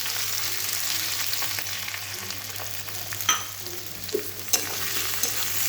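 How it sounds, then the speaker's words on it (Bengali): Onion frying lightly in oil hisses steadily and softly, with a few distinct clinks and scrapes of a stirring spoon against the pan midway through. "পেঁয়াজটা একটু হালকা ভাজা হবে"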